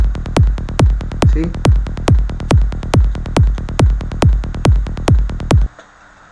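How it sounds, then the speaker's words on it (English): A basic psytrance bass synth line beside its kick: a rapid, evenly spaced train of punchy low thumps at a steady driving tempo, loud and close, cutting off abruptly near the end, with a brief spoken word. "so this is the basic psytrance bass"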